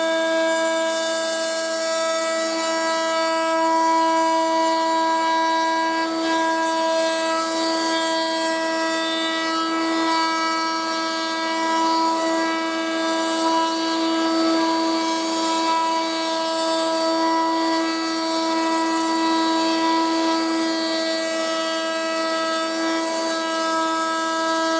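A router cuts around the edge of a bandsaw-cut wooden test circle, a loud, sustained high-pitched whine with a steady tone that holds for the whole stretch, slight swells as the bit works along the curve.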